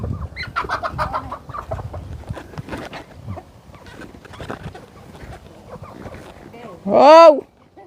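A white chicken clucks and squawks close by on a Thai farm or schoolyard, a run of short calls and then one loud, sharp cackle at the end, with people talking around it.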